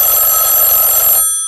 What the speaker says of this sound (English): This one begins with a telephone ringing in Savannah.